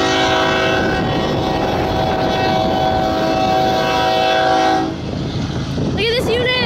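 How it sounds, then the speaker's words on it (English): A slow, heavily loaded BNSF freight train with three locomotive units passes close by in New York, a loud steady rumble with engine drone and tonal hum that drops away near the end, leaving screeching wheel squeal. "It's going slow. It must be like super loaded up. Now you can hear the train tracks."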